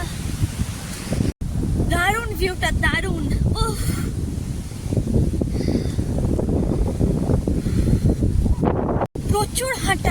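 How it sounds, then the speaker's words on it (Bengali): Strong wind buffets the microphone on a coastal clifftop path at Durdle Door on the Jurassic Coast, a loud continuous roar with brief dropouts, while a person talks over it. "কি হাওয়া দিচ্ছে!"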